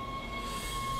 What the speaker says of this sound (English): Kinda crazy that a ship has a tram inside.